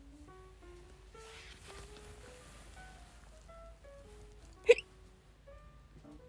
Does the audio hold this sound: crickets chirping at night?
no